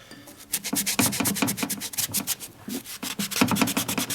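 Repeated hand rubbing scrapes residue off the black engine cases of a 1992 Harley FXR Evolution 88ci motor during a rebuild, a close, rhythmic rasping of short strokes with one brief pause, no voices.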